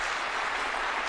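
An audience at a speech on economic growth claps in a dense, steady burst of applause that fills the short moment without any voices.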